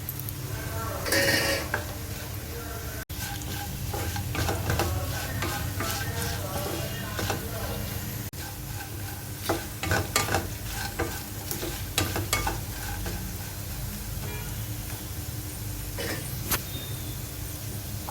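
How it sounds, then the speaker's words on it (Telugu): Potato pieces frying under a lid for an aloo fry, with a steady background sizzle and occasional scrapes and knocks from utensils, close by, under a faint voice. "ఈ ఆలుగడ్డ ముక్కల్ని 10 నిమిషాల పాటు మూత పెట్టుకొని ఫ్రై చేసుకోవాలి"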